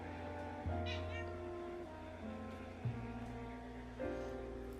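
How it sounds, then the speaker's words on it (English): A cat meows three times, long drawn-out cries at a steady pace, close by over a quiet background hum. "And say hello, sweet kitty."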